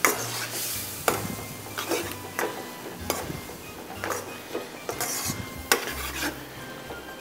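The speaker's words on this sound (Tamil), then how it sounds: "இதில் போட்டுட்டு இதை நல்லா இதோடு போட்டு கிண்டுறோம்." A spoon stirs egg through Kerala chicken curry (chicken palandi) in a pan. It gives repeated scraping and clinking strokes against the metal over a soft, steady sizzle, close and moderately loud, with no talking.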